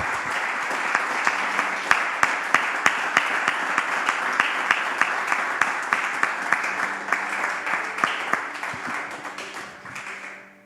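A congregation claps loudly during a Spanish-language church service, with crisp individual hand claps standing out from the steady applause before it thins and fades near the end.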